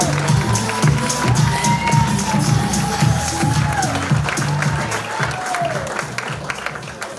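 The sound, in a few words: comedy show audience applauding and cheering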